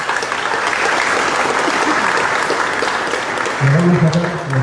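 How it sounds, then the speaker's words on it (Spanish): A dense, loud wash of audience clapping at a ceremonial gathering in Bolivia, sustained throughout, with a voice starting to speak over it near the end. "Les ruego por favor dar un aplauso a nuestra hermana."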